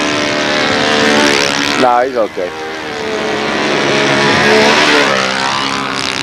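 A control-line model airplane's propeller engine drones loudly and steadily throughout at a windy 2004 world championship flying event, with someone speaking briefly over it partway through.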